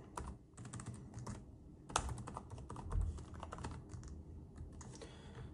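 A password is typed on a computer keyboard as a quick, irregular run of close, crisp key clicks. A slightly louder tap stands out near the middle. No one speaks.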